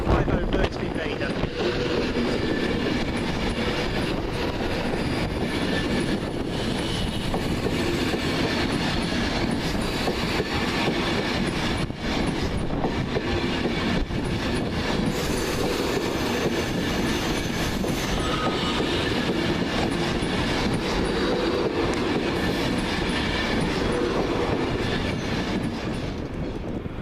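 A Virgin Trains class 390 Pendolino departs Carlisle on a West Coast service from Edinburgh Waverley to London Euston, a loud, steady roar of wheels on rails with faint squeals and clickety-clack, lasting throughout.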